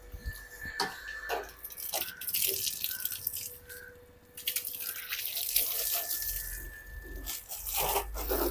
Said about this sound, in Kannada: ಇವಾಗೆಲ್ಲ ಗಾಡಿಗೂ ನೀರು ಹೊಡೆಯೋಣ ಫಸ್ಟ್.